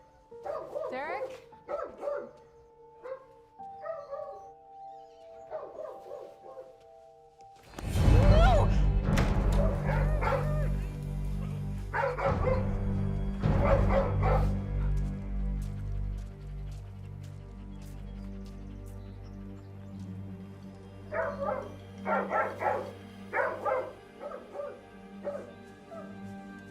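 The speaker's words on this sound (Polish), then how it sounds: "Coś jest nie tak z Wilsonem. Szczeka jak wariat." Dog named Wilson barking wildly in a house: repeated sharp barks and yips, quieter at first, then loud and frantic over a rumbling background, with voices briefly heard.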